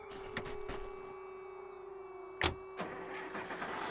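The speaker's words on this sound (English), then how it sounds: "Hopefully the engine will work now. Okay, let's start it." Engine starting in the Runaway 2 adventure game: a short mechanical cranking with a steady whining tone, then sharp clanks and bursts as it catches, fairly quiet overall and with no talk.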